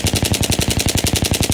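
Rapid, evenly spaced automatic fire from an AUG A3 rifle in the video game Battlefield 3, a loud close burst of about twenty shots at a steady rhythm with no talk.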